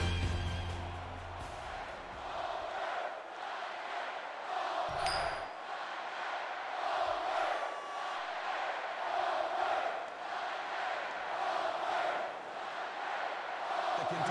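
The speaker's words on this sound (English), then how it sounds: "you can feel the thunder in the crowd as they await the start of this game" A stadium crowd in the NCAA Football 2020 video game, Kentucky at Auburn, roars steadily as a dense, continuous wash of noise with a few brief clinks above it.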